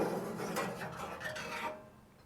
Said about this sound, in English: Slide this bottom grate out.